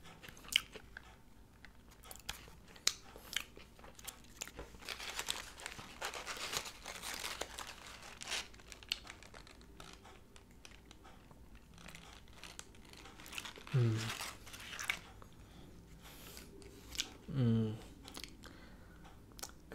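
A Taco Bell taco with Diablo sauce is eaten up close: quiet wrapper crinkling and paper rustle, then a few soft crunchy bites and chewing. Everything stays faint and intimate, with no talking.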